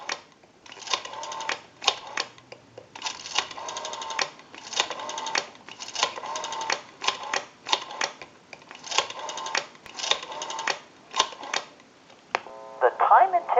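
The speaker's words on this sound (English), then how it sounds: "we'll call a time and temp number" Dialing a time and temperature number on a Spacesaver telephone, a long run of rhythmic mechanical clicking bursts with short pauses between digits, ending in a brief tone.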